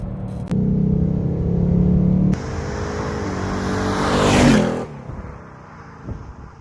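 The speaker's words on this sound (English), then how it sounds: "the car shifts the gear so quickly" Engine of a 2020 Ford Mustang GT Premium Pack accelerating with abrupt gear changes: a loud droning roar, a sharp step at each shift, rising to a peak before dropping away to a quieter rumble.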